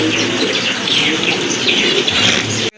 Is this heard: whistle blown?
no